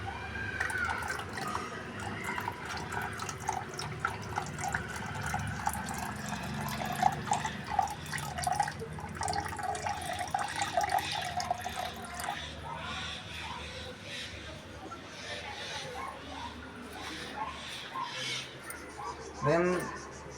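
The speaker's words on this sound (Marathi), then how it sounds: "गरम पाणी, ज्या साईडला फिशेस आहेत त्याच्या अपोजिट साईडला तुम्हाला ते टाकायचं आहे." Warm water is poured into a tank of baby fish fry on the side opposite the fish, making a steady trickling, splashing flow with scattered drips that runs for the whole stretch.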